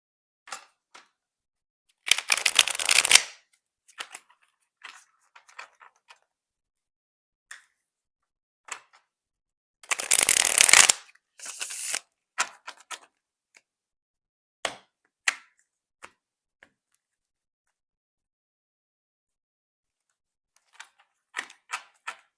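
Tarot cards being shuffled give two bursts of rapid riffling clatter, surrounded by scattered soft taps and flicks of cards against each other in an otherwise silent room.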